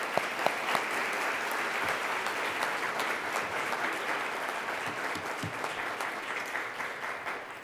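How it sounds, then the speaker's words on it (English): Sustained audience applause at a public forum on Black maternal mortality, honoring panel speakers and a commissioner host; dense, steady clapping from a sizable crowd for several seconds, fading slightly at the end. "Big round of applause."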